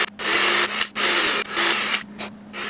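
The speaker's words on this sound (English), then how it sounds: "I'm gonna pre-drill 2 holes and put in some of these Harbor Freight wood screws" A power drill bores pilot holes into the wood of a homemade birdhouse before Harbor Freight wood screws go in: three close, loud bursts of whirring broken by short pauses, with a steady low hum underneath.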